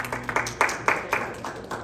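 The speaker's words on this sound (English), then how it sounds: "could I ask the audience to please withhold your applause?" Audience at a Palatine District 15 school board forum clapping in a short, scattered burst, a handful of distinct claps at moderate distance rather than a full roar of applause.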